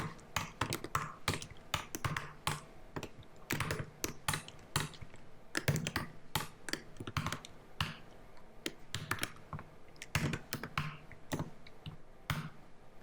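Rapid, uneven keystrokes on a computer keyboard while code is typed for iOS development, a steady run of close, crisp clicks in bursts with short pauses and no talking.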